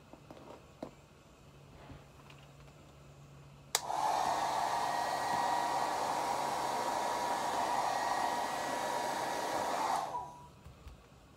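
A handheld hair dryer blows steadily on someone's hair, switching on abruptly and running as a loud, even whoosh for about six seconds before cutting off; quiet room tone before and after.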